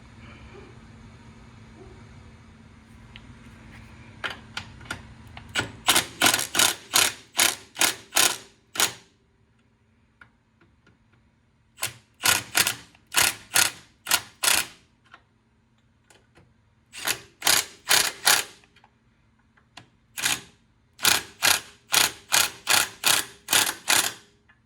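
Quick bursts of rapid clicking from a hand ratchet tightening factory bolts on the fairlead brackets of a Polaris RZR. Several separate runs of steady ticking, close and distinct, with short pauses between them and no talking.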